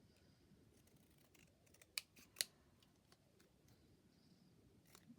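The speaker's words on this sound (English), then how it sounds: "So I'm going to cut that out." Scissors cut out a paper gift tag: a few quiet, crisp snips, two sharper ones close together, in an otherwise hushed room.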